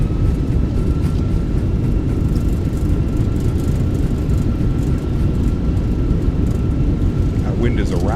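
Loud, steady low roar of Airbus A320 thrust reversers during landing rollout in a Fenix A320 flight simulator on arrival at Larnaca, a continuous rumble filling the whole stretch without pause.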